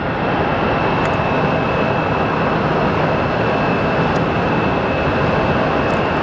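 A Boeing 777 at Phoenix Sky Harbor airport produces a steady, loud, continuous engine roar with a constant high whine, unbroken throughout, with no voices.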